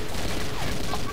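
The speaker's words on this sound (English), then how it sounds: "Burst fire mode is definitely something else. You don't see that every day in a machine gun." Machine gun set to burst fire in the video game Combat Arms (M21E), a dense, loud continuous rattle of gunfire filling the whole short span.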